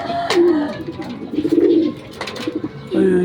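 Racing pigeon arriving home at a loft in Santa Rosa, Laguna, giving several close, soft throaty coos in short bursts, with faint background voices.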